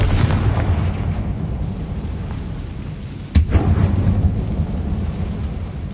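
Confringo blasting spell in Hogwarts Legacy, a single deep booming explosion midway through over a constant rumbling rain-like background, loud and heavy.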